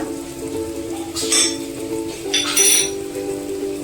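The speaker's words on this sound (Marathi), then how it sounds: "हे सर्व घालून तेलावर व्यवस्थित परतून घ्यायचं" Onion, garlic, turmeric and masala sautéing in hot oil in a pan for a sprouted moth bean curry, with a soft steady sizzle and a few sharp clinks of a spoon stirring against the pan.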